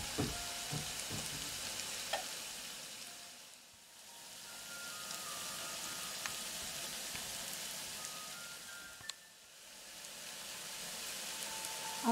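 Potato pancakes (tócsni) flavoured with tarragon and garlic fry in a pan, giving a steady, close sizzle that dips briefly twice as the pancake is handled.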